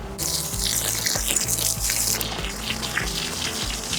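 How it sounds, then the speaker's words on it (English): A hose sprays termite treatment chemicals into a trench dug in the soil around the outside of a house, giving a steady, close, gushing hiss of liquid hitting dirt. "we apply the chemicals around the outside with our hose here"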